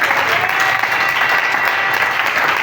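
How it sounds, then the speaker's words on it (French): A church congregation applauding and cheering at a morning prayer service, steady dense clapping from a large crowd filling the room throughout, with no pauses. "Est-ce qu'on peut acclamer la parole de Dieu?"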